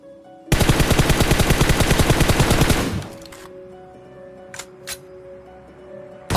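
Automatic gunfire rattles at enemies in PUBG Mobile, a long, loud, rapid burst of evenly spaced shots lasting over two seconds, then a quiet lull broken by a couple of sharp clicks and a final shot.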